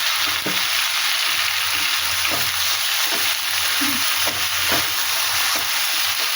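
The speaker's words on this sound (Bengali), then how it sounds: "যাই হোক আমার মাছের তেল ভাজা হয়ে গেছে এবারে পাঁচ মিশালি সবজিটা আমি দিয়ে দিলাম" Mixed vegetables hit hot fish oil left from frying fish and sizzle loudly and steadily, with occasional stirring scrapes throughout.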